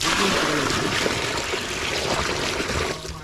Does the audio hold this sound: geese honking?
no